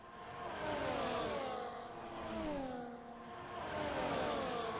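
Race cars in a racing video game sweep past in a sustained, loud engine whine that rises and falls in pitch across several overtakes, with no talk.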